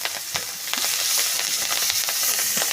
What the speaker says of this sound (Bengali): দেওয়া হলো কাঁচামরিচ পেঁয়াজ